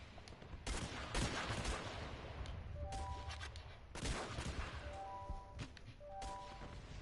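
Bursts of gunfire from units battling in the strategy game Guns Up, dense overlapping volleys and thuds in loud waves with brief lulls, plus short tonal interface beeps between salvos.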